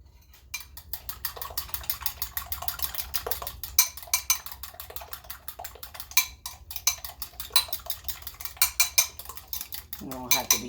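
A fork mixing crab cake mixture in a bowl, producing rapid, continuous clinks and scrapes against the dish, close and fairly loud, with a brief voice near the end.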